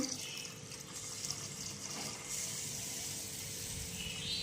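Water pours steadily into a container of rinsed lentils and rice, a continuous soft rushing splash with no voices.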